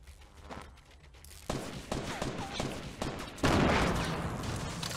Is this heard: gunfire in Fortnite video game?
yes